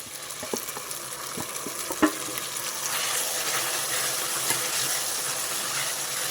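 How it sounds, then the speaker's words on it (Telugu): Boiled gongura leaves and tomato frying in a hot tempering of oil and asafoetida, a steady sizzle with scattered spatter pops and a few clinks of a stirring spoon early on, no voices. "ఒక టూ మినిట్స్ దాన్ని వేగనిద్దాం ఇంకా మూత పెట్టాల్సిన అవసరం లేదు ఇలా వేగితే సరిపోతుంది"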